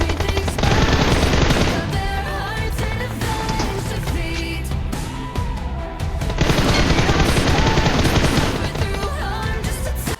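Rapid automatic gunfire in PUBG Mobile on the Livik map, dense repeated bursts running loud and close through most of the stretch, mixed with game effects and background music.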